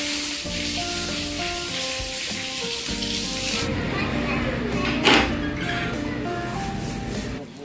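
Food frying in a pan for biryani gives a steady, moderate sizzle throughout, with a voice talking over it and a brief clatter of utensils near the end.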